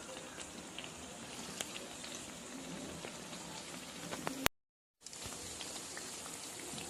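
Potato smiles bubbling in hot oil, a steady soft crackle and hiss like light rain, fairly quiet and continuous apart from a brief dropout.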